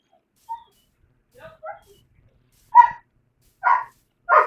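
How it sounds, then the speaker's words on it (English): Dogs barking in short, separated bursts, a couple of faint yips at first, then louder single barks at a moderate distance against an otherwise quiet background. "Don't mind barking dogs"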